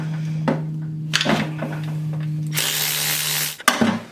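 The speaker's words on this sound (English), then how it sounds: "So we're going to take these 4 bolts out here." Bolts are backed out of a 1947 Ford transmission with a power tool or ratchet, giving several short bursts of mechanical whirring and clicking amid a steady hum, then a longer, louder stretch of tool noise near the end.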